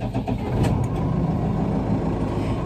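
Tractor engine cranking and catching, then settling into a steady, loud, close diesel-like rumble that holds evenly to the end.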